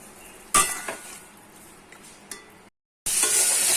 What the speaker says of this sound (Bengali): এখানে দেখো নিম বেগুনটা আমি ভেজে নিচ্ছি।